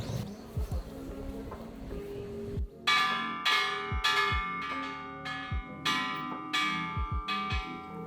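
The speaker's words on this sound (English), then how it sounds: "You can also ring this bell behind us, which rings for world peace." A large peace bell at the Hiroshima Peace Memorial Park in Japan rings in several loud, resonant strikes, each one leaving a long humming decay, with quieter ambient noise from the park between the strikes.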